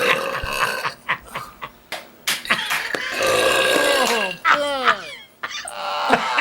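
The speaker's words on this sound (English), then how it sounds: "Here's the queen of all burps right here." Loud, drawn-out burps erupt one after another, with croaky, gurgling, pitch-sliding growls up close, while people talk and react around them.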